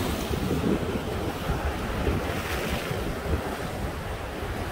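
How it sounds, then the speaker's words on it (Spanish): Ocean surf rolls steadily onto the shore at Ventura, a continuous broad wash of breaking waves mixed with gusty wind buffeting the microphone, with no voices. "qué chula de mar"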